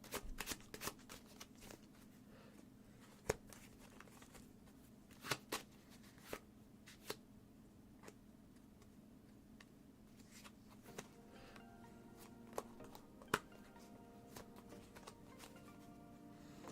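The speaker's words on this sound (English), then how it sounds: "all should be shuffled" A deck of playing cards is shuffled repeatedly during a magic performance. Crisp riffles and snaps are spread across a quiet background, some louder bursts stand out, and no one speaks.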